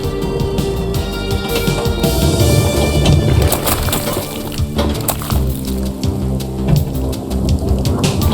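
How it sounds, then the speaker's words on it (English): Rain and rolling thunder from a pinball video game's storm effect pour out as a dense, loud, continuous wash, broken by sharp crackling hits scattered through it. "Storm hitting us! Brace yourself!"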